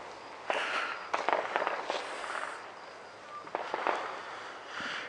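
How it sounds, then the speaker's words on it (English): Fireworks for the July 4th holiday crackle and pop outside in scattered bursts, distant and fairly faint, with no talk over them. "well, at least you can hear the fireworks"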